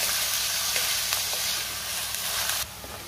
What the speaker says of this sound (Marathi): कांद्याला थोडा लाल रंग येईपर्यंत कांदा आपण परतून घ्यायचा आहे